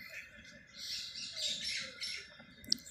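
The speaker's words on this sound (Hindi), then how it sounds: "पंछियों की चहचहाट की आवाज़ आ रही है, ये भी काफ़ी अच्छी होती है।" Birds chirp and tweet steadily in a city park garden with paths and steel benches, a bright, continuous layer of overlapping calls at moderate distance with a brief sharper note near the end.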